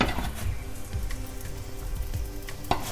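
Aloo paratha flatbread sizzles in hot ghee in a pan, a steady crackling hiss with small pops and scraping sounds, close and fairly loud.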